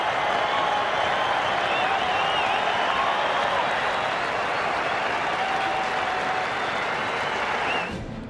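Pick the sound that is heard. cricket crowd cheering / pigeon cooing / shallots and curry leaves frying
cricket crowd cheering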